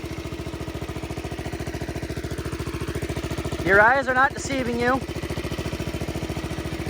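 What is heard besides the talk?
1969 tractor engine running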